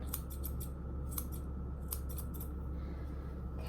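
Grooming scissors snip through a Yorkshire Terrier's fur during a pet trim, quick clusters of crisp metallic cuts in bursts of three or four, close up over a steady low hum.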